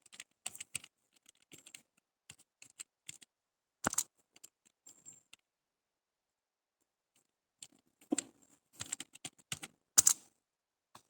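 Clicky computer keyboard typing during data entry in MS Excel 2013, irregular bursts of key taps with a pause in the middle, close and quiet with no talking.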